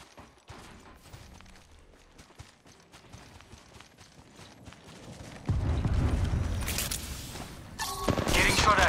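Gunfire in Apex Legends Mobile, starting as scattered faint cracks and then turning into loud, dense bursts of shots and impacts during a firefight.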